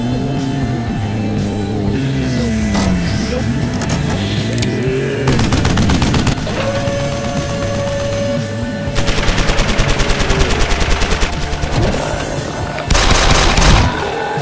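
Rapid machine-gun bursts from a turret in a LEGO zombie apocalypse animated battle, loud continuous gunfire with several sustained volleys layered over a busy action soundtrack.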